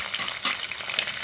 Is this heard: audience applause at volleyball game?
no